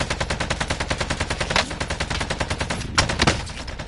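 Video-game gunfire from a helicopter overhead, a fast, steady machine-gun rattle running unbroken throughout, loud and close, with a couple of sharper bursts near the end.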